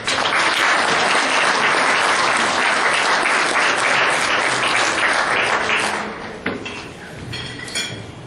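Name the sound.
audience applause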